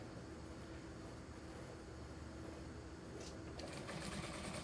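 A sewing machine stitches a suit jacket sleeve with a continuous, fast mechanical whir, fairly quiet and steady, picking up a slightly brighter clatter near the end, with no talking.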